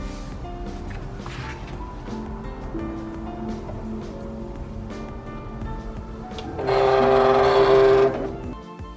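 A Silhouette cutting machine cutting Christmas decoration designs whirs and ticks steadily, then swells into a louder, buzzing burst of motor noise near the end.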